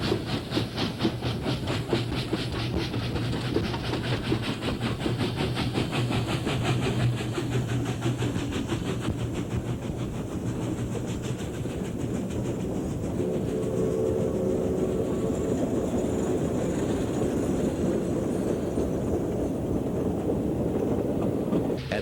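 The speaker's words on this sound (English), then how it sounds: "Now a double-headed steam train. The 7-car special begins the climb to the capital" A seven-car double-headed steam train climbs out of Escuintla, a continuous loud rumble and hiss with rhythmic chuffing throughout and no voices.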